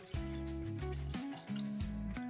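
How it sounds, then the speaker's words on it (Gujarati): Water is poured from a glass into a pot of cut sweet potatoes, a quiet gurgling fill with rising tonal glugs in short bursts, close and faint. "અને 2 ગ્લાસ જેટલું તેમાં પાણી એડ કરી દેશું"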